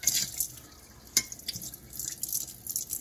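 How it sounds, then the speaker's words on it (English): Tap water runs and splashes while Tupperware cookware is rinsed in a sink, a continuous faint spattering with irregular drips and small knocks. "I'm going to rinse it again."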